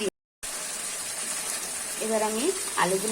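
Potatoes tipped into a sizzling fried spice paste for Kashmiri aloo dum, a steady bright frying hiss after a short silent gap, with someone speaking over it toward the end.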